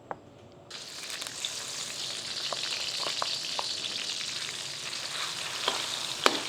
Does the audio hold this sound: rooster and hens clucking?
no